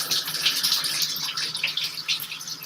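Water runs steadily from a tap while paint is rinsed off a hand, a close, hissing, splashing flow with no pauses.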